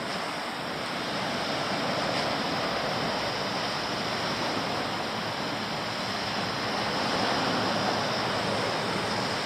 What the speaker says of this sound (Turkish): Denizin dalgaları biraz duruldu